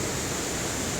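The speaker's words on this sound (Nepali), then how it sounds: "एउटा नेचुरल वाटरफल दामी छ छाँगा भन्छौँ हामी यसलाई सो भीम खोलाको छाँगा" Bhim Khola's natural waterfall, a chhanga, gives a steady, dense rushing roar of falling water with no pauses or voices across the brief moment.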